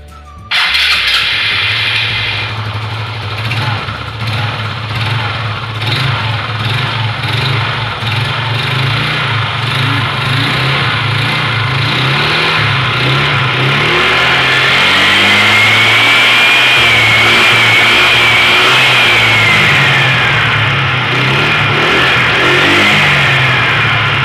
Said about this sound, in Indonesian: kalian tinggal coba tes nyalakan motor kalian ya